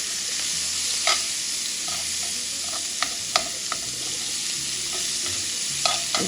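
Cabbage and greens sizzle in leftover pork chop oil, a constant frying hiss broken by several sharp spoon clinks and stirring scrapes against the pot; close by, with no talking.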